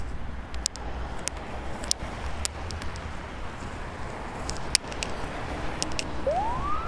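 Distant police and ambulance sirens rising and wailing faintly over steady traffic and wind noise, with a sharp click partway through, near Prospekt Bolshevikov.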